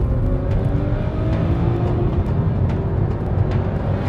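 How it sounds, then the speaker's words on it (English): A Volvo S60 Polestar concept accelerates hard from a rolling start on snow, its engine note climbing steadily through the gears in a loud, continuous roar with rising harmonics and no talk over it. "So we thought we'd do a rolling start and just see how fast this Volvo really is."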